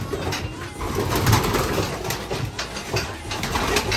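Pigeon hens coo inside a loft, their low soft calls overlapping in a steady murmur among rustling and shuffling, close by.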